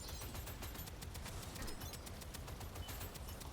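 Rapid gunfire in the video game Deadzone: Rogue rattles as a fast, continuous string of sharp shots, fairly faint and steady throughout.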